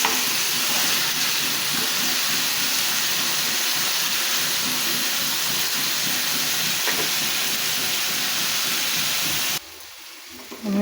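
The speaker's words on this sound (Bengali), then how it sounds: "আমি কেন খালি তেল আর কাঁকরোল দিছি" Teasel gourd slices fry in plain oil with a loud, steady sizzle and hiss that runs close and unbroken, then drops away abruptly near the end.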